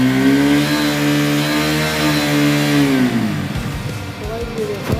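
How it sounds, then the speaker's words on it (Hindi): A KTM motorcycle engine with an aftermarket exhaust is held at full throttle, a loud sustained high-rev roar that falls away after a few seconds into lower idle burble. "एक बार ही थ्रॉटल देना ये पूरा।"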